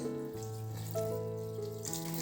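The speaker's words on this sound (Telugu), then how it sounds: "కొంచెం వాటర్ పోసుకొని జస్ట్ అలా నానబెట్టి" Water pours and splashes onto ragi (finger millet) vermicelli to soak it before steaming, a steady close running-water sound lasting about two seconds, with tonal background music underneath.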